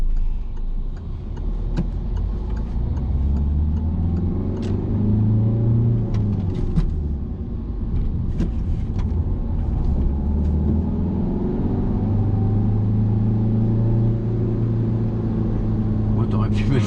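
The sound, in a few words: car engine during a driving lesson, driven in low gear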